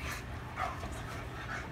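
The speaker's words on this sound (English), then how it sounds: "mysterious Medusa, who is near another dog through the gate, of course." A dog whimpers and yips at another dog on the far side of a gate, giving soft, high, excited cries in short bursts over a steady low background hum.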